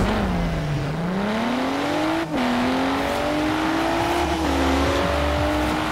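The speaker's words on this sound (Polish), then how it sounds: "Chociaż niby 6-cylindrowy silnik ma i 3-litrowy." Six-cylinder 3-litre engine of a Volvo V60 T6 in Forza Horizon 4 revs steadily and climbs through the gears, with a brief dip at a shift midway and a sustained drone throughout, loud and close with no talking.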